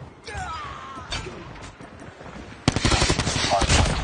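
Gunfire from the Cordite assault rifle in the Call of Duty Mobile video game: sustained rapid automatic bursts, loud and close, the densest firing in the second half, with faint game voice lines underneath.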